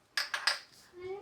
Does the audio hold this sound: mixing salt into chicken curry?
yes